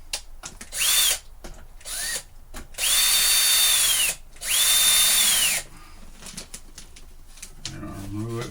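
A power drill drives screws in several short, loud whirring bursts, each spinning up and winding down with a rising and falling whine, separated by brief pauses and handling noise.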